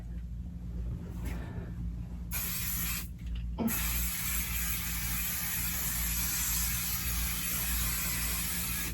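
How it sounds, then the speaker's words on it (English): Spray baste adhesive hisses from an aerosol can onto a quilt hung on a wall, in a few short bursts and then one long continuous spray, close and steady. "I'm gonna put a little bit more spray on this edge."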